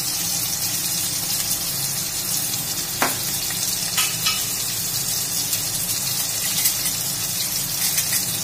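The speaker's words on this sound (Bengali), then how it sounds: "এবার আমি এই আদা বাটাতে সমস্ত শুকনো গুঁড়ো মশলাগুলো আমি দিয়ে দেব।" Dry spice powders fry and get stirred into ginger paste in a pan with potatoes, producing a continuous loud sizzle with occasional scraping taps from the stirring, close and steady with no talking.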